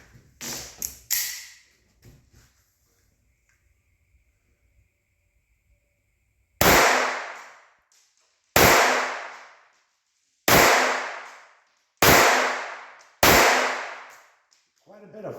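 A .22 pistol, Walther PPK/S or P22Q, firing CCI Stinger rounds: five sharp, loud cracks spaced about two seconds apart, each with a short decaying tail, after a few faint handling clicks and a quiet stretch.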